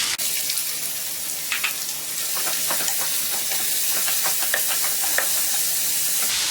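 Sliced onions fry in oil with cumin and a bay leaf for a vegetable curry, giving a steady close sizzle with frequent spoon stirs and scrapes. The sizzling runs throughout with no voices.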